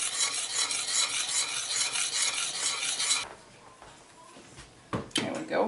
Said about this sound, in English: And then you want to add your 2 cups of pecans.